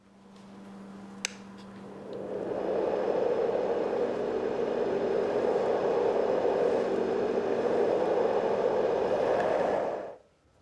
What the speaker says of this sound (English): more parents are trying to help their babies sleep better by using white noise generators that sound like this